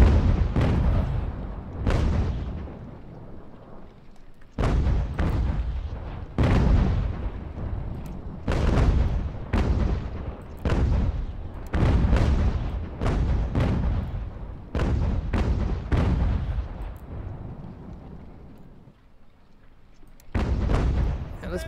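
Artillery cannons firing in Ultimate General: American Revolution, a strategy game set at Fort Frederick: repeated heavy booms in an irregular volley, each with a rumbling tail, some overlapping, loud and close, with occasional speech between shots.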